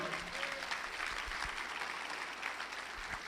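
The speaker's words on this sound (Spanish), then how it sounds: "El que lo crea, dele un aplauso a Jesús." A church congregation claps for Jesus during a sermon, a dense, steady wash of applause that holds for several seconds at moderate distance.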